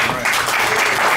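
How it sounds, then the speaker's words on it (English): A brief, dense burst of audience applause, loud and steady throughout, with clapping filling the whole moment. "a big round of applause for yourselves"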